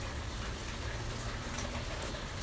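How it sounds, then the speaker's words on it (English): Steady rain falling outdoors, an even broadband hiss of drops with no pauses, moderately close and constant throughout with no voices. "Boy, it's really beginning to rain."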